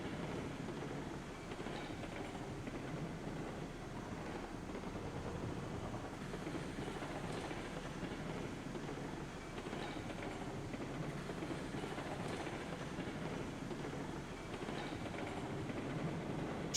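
A train rolling along the tracks in the railroad simulation game Railroads Online, a steady dense rumble of wheels and rail noise that runs unbroken at even loudness with no voices over it.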